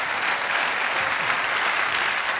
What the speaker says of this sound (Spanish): Orbán termina su discurso y los asistentes lo aplauden